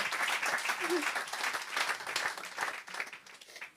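Church congregation gives a dense, steady round of applause that stays loud for several seconds before thinning out at the end.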